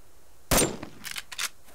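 Gunfire in the Subsistence survival game: one sharp, loud shot followed by a few quicker, fainter bursts, with no talking.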